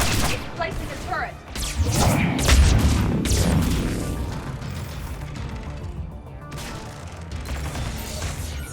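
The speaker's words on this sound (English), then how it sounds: "Placing a turret." A turret being deployed in Mass Effect 3 Legendary Edition: mechanical clanks and a heavy booming thump up close, then a lower rumbling tail, with speech mixed in.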